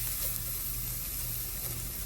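Ground pork fries in a pan, giving a steady, broadband sizzle with a faint low rumble, close and continuous for a couple of seconds with no talking.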